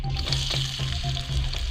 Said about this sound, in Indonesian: Kita panaskan minyak, kemudian masukkan bawang merah yang sudah kita cincang.